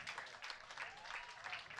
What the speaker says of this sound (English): great big round of applause here